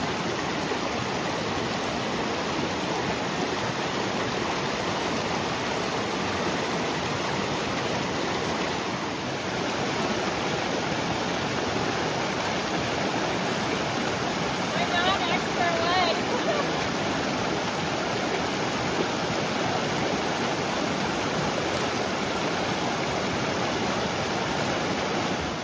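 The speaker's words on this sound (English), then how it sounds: "This is a tough water crossing to navigate." Rushing stream water at a tough crossing on the Wonderland Trail, a constant broadband roar that is close and steady throughout, with faint voices briefly audible midway.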